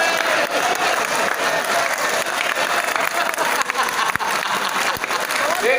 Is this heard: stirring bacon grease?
no